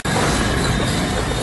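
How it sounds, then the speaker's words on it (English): A loud London Underground tube train rushes past, a dense, steady roar with rattling, clinking metallic detail that fills the whole stretch without a break. "Some loud tube train."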